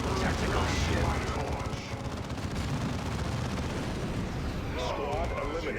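Warhammer 40K Dawn of War II battle: dense, continuous rumbling of gunfire and explosions throughout, loud and chaotic, with faint shouted voices buried in the din.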